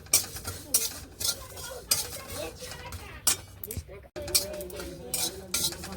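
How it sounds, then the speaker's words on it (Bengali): Cumin seeds and chillies fry in a pan, with a continuous sizzle under repeated scraping strokes and light metallic clinks from a spoon stirring close by. "প্রথমে জিরে লঙ্কা ভেজে নিচ্ছি"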